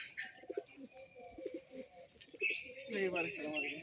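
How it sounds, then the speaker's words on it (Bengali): Pigeons coo softly nearby, in repeated throaty bursts with some faint chirps. Quiet voices talk in the background, and the cooing grows fuller toward the end. "পায়রা খেলা দেখো"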